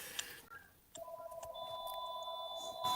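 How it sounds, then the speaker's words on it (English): A telephone rings with a steady electronic tone that carries on through the clip, preceded by a few faint clicks and taps. "Well, there's the phone. Somebody's ringing."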